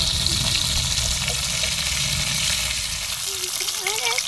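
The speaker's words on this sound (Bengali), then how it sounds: "মাছটা লাল লাল করে ভাজা হয়ে গেছে" Freshly caught Yamuna river fish frying in a pan, a continuous close sizzle with some watery bubbling, and a few faint background sounds near the end.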